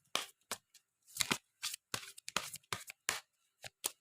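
Tarot cards are shuffled and drawn in short crisp bursts of riffling and snapping, close and irregular, with brief silent gaps between them and no voices.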